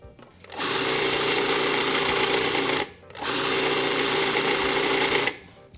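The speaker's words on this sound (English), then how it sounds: "we'll go ahead and put our lid on, and we're going to pulse this." A food processor pulses a falafel mixture in two loud, steady whirring bursts of about two seconds each, separated by a brief pause and ending in silence.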